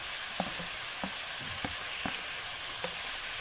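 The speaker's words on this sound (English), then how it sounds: "now I am adding my coarsely chopped onion and mix them all together" Coarsely chopped onion frying with spices in a pan, a faint steady sizzle under soft, regular stirring taps roughly every half second.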